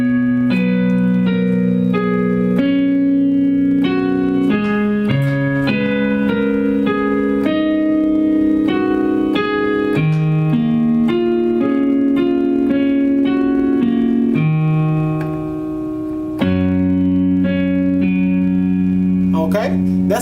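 Slow piano rendition of the third part of a song, sustained chords and a melody over low held bass notes, ringing clearly for about twenty seconds with no voice.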